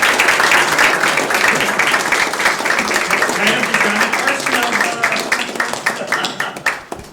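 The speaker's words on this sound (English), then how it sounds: "let's show a clap of appreciation to our moderator, who did an outstanding job." Sustained audience applause for a moderator at a World War II veterans event, dense and steady clapping throughout, fading slightly toward the end, with voices mixed in underneath.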